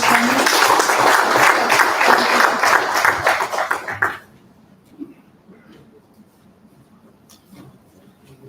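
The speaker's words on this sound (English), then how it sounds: "So give it a round of applause to Mr. Hemant" A room of attendees at a corporate sales training launch gives Mr. Hemant Kulkarni steady, loud applause that stops abruptly after about four seconds, followed by a brief spoken word and near quiet.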